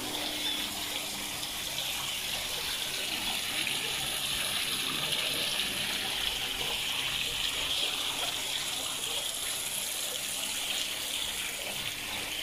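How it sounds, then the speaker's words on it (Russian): Steady rush of falling water from a small waterfall splashing down a wall in a botanical garden greenhouse, continuous and even throughout with no voices. "Шум падающей воды. Такой водопад по стене."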